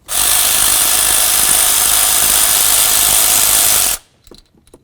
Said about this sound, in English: There's a 10mm headed bolt. Go ahead and remove that.